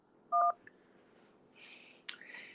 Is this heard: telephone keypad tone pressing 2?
yes